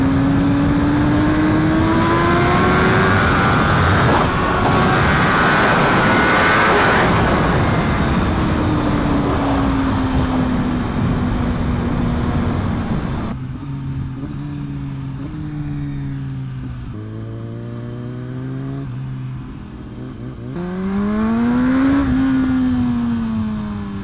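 A BMW HP4 sport motorcycle ridden along a canyon road, its engine loud and close, revving up and down through repeated rising pitch sweeps as gears change, under steady wind rush.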